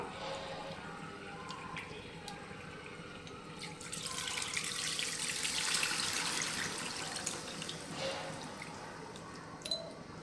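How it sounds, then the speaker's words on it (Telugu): Tamarind juice is poured into a fish curry with a soft, quiet trickle and splash that swells slightly midway, then settles into light dripping. "మనం ఇప్పుడు చింతపండు పులుసును అయితే ఇందులో కలిపేసుకుందాం"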